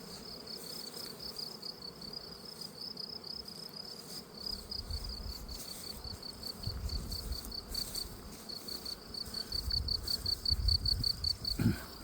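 Honeybees hum around hives in an apiary while acacia is in bloom, giving a constant high droning buzz over a low, swelling rumble of wingbeats that grows louder toward the end, with no voices.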